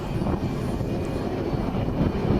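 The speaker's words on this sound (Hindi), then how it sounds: "राफेल से लेकर तेजस और पूरी दुनिया भर के विमान जो हैं इस समय उड़ान भर रहे हैं" Military jets and other aircraft, Rafale and Tejas among them, fly over the Aero India air show in Bangalore, giving a loud, steady, unbroken engine roar with no speech.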